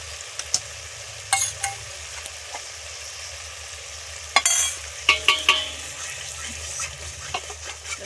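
Masala sizzling as poppy seed paste and fennel paste go into the pan, with spoon scrapes and soft clinks breaking through a steady background hiss, plus a few louder knocks and a brief splash near the middle.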